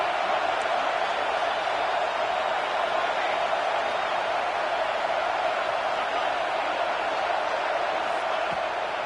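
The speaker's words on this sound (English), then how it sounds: "this crowd is at fever pitch" A football stadium crowd during a third-down red zone play roars in a dense, steady wash of cheering, loud and continuous throughout.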